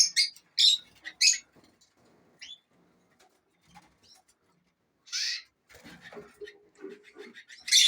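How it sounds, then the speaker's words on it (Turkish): Canaries and canary chicks in a home bird room give scattered high chirps and short tweets in bursts, fairly faint, with a few quieter rustling sounds between calls. "Burada kanaryalarımız var. Burada da yavru kanaryalar var."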